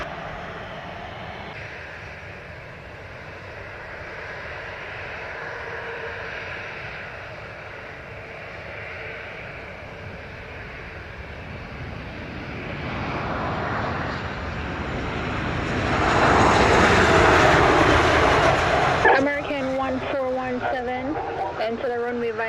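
A Southwest airliner lands on runway 25 at Montego Bay, Jamaica: a broad engine roar builds steadily and peaks loud and close, then gives way to whining, wavering engine tones as it rolls out.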